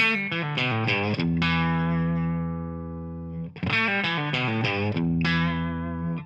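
Electric guitar through a compressor pedal plays quick picked notes that ring into long sustained chords, evenly squeezed and loud, repeating the phrase twice.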